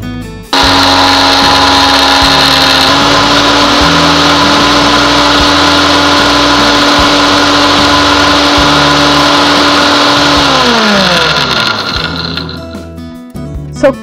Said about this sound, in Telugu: ఇప్పుడు మిక్సీ పట్టుకోవాలి।